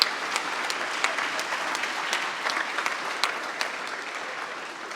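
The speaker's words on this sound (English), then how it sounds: "if I could just get a quick round of applause to recognize all of the coaches" An audience at a sports awards event gives the coaches present a steady round of applause, dense sustained clapping filling the hall with no voices over it.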